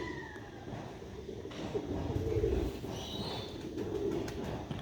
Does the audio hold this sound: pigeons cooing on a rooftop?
yes